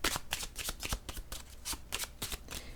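Purple tarot cards being shuffled and handled, a quick run of crisp riffling flicks and slaps, close and loud, with no voices.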